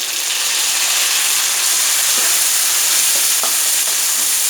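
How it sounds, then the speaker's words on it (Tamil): Onions and tomatoes fry in a pan for a cauliflower coconut milk curry, giving a steady, loud broadband sizzle with faint stirring clicks throughout, no voices. "இந்த மாதிரி தக்காளியும் போட்டு நல்லா வதக்கிக்கிறோம்."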